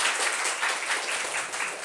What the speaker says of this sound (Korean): 원장님 큰 박수로 맞이 부탁드리겠습니다.